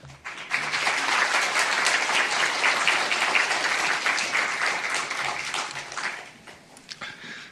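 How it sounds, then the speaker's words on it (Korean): A church congregation claps steadily to welcome the preacher at a New Year special dawn revival service, dense and sustained applause that tapers off near the end. "오늘도 나오실 때 우리도 일관성 있게 박수로 말씀을 청해 듣도록 하겠습니다."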